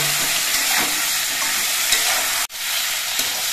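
Vegetables being stir-fried in a kadai, a loud continuous sizzle of hot oil with occasional scraping stirs, briefly cut off before the hiss resumes, close and without speech.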